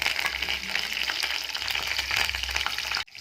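Mustard seeds sizzle and crackle in hot oil while potato palya is being cooked, a dense, loud, steady frying hiss that runs almost throughout before cutting off abruptly near the end.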